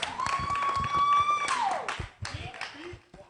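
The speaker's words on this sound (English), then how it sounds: "We have up next King P.Y. A round of applause." A brief round of clapping and applause greets a performer named King P.Y. at a televised talent-show final selection. It is short and moderately loud, with voices talking over it and a sustained tone ringing early on.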